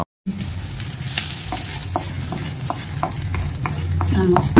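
Curry leaves sautéing in a pan for chutney tempering, a close, steady sizzle with regular scraping strokes of a spoon, growing slightly louder toward the end with no voices.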